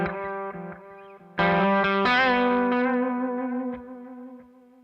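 A vintage Gibson ES-335 electric guitar plays a few sustained, slightly driven notes and chords through a long delay, each phrase ringing out and trailing off with echoing repeats, alone and fairly close.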